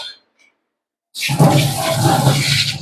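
Fast-running water gushes and splashes loudly after about a second of silence, a dense, steady rush that continues without pause to the end.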